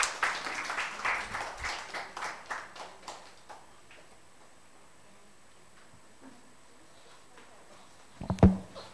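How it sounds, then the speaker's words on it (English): A literature festival audience in Bhopal gives a round of applause at the start of a session on the Andaman and Nicobar Islands. Dense clapping fades over a few seconds into a quiet room, and a single thump follows near the end. "So can we start the session with a huge round of applause?"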